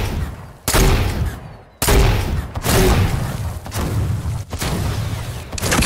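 Gunfire in the video game Fortnite: several loud, dense bursts of shots and heavy impacts one after another, with brief gaps between volleys, close and without talk.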